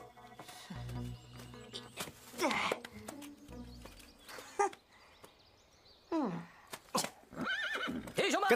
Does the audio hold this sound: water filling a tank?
no